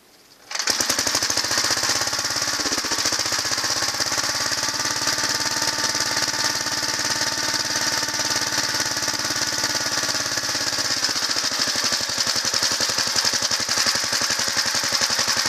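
The engine of a 1963 Gravely LI tractor starts up and runs steadily, with a loud, rapid, knocking single-cylinder putter that holds even and close for the whole stretch, with a brief dip near the end.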